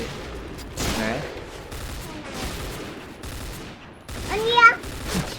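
M4A1 rifle fire from the Point Blank shooter game comes in several bursts and scattered shots over a few seconds, with players talking over the gunfire.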